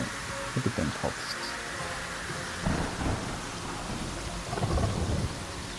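A thunderstorm brings steady rain hiss, and low rumbles of thunder roll in several times, the louder ones near the middle and end.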